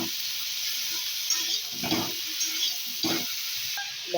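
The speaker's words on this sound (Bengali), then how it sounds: "ফুলকপিগুলো ভাজার জন্য একটু ঢাকা দিয়ে দিচ্ছি, ঢাকা দিয়ে দিয়ে এগুলোকে ভালো করে ভেজে দেবো" Cauliflower and potato pieces seasoned with salt and turmeric fry in a pan with a steady, soft hiss, broken by a few brief scraping stirs, heard close and alone.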